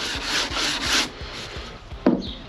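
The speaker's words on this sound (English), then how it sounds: "I'm not putting any force onto the steel at all. And once I actually finish with sanding on the steel, we'll actually be finishing at a 320 anyway." Hand sanding of bare car body steel with 80 grit paper, light pressure, steady back-and-forth rasping strokes in a regular rhythm, close and fairly quiet, with a brief louder scrape near the end.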